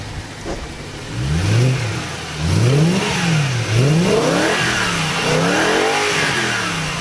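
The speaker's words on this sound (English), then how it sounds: "That is a sweet sounding engine." A BMW E92 M3 naturally aspirated engine revs repeatedly, pitch climbing and falling in several loud surges, close by with no talking.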